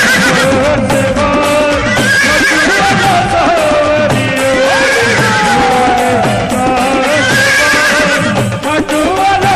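A horse neighs within a loud Khatu Shyam devotional bhajan about a rider on a blue horse, the whinnying calls blending into dense, continuous music.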